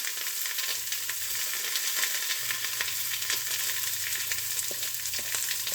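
Onion and garlic fry in a hot stew pot, a steady close crackling sizzle running throughout with faint stirring and no talking.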